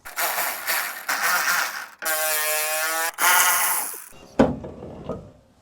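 Ratchet spinning off the bonnet bolts on a crash-damaged Mercedes-Benz, a few bursts of rapid clicking with brief pauses between them, close and fairly loud, followed by a metallic clunk near the end.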